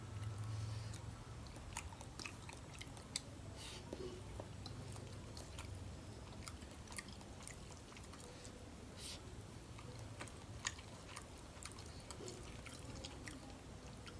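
Someone eats rice with fish, with soft, close chewing and biting sounds that come and go at a low level over a quiet background.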